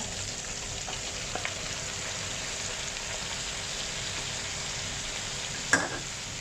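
Yardlong beans and eggplant fry with pork in a pan, giving a steady, even sizzle throughout, with a few faint clicks and one sharp utensil knock near the end.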